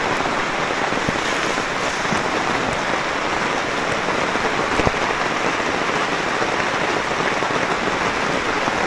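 Heavy rain pours steadily at a dark campsite, a dense, constant hiss of drops drumming on surfaces close by, with no pauses and no voices.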